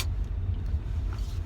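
Car engine droning steadily from inside the cabin while driving past a food truck, a low continuous rumble with no talk.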